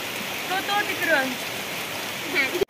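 Steady rain falls in a continuous broadband hiss, with faint voices drifting in the background.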